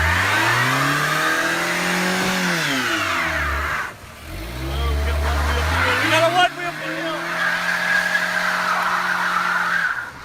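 A front-wheel-drive car does a one-wheel-peel burnout at a car meet, its engine revving hard and rising and falling while the tyre squeals loudly and continuously; voices are heard over the noise.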